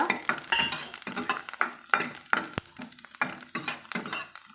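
Cashews and raisins frying with coconut in a pan, with a utensil stirring and scraping against the metal in quick repeated strokes under a soft sizzle. The sound is close and moderately quiet, and nobody speaks.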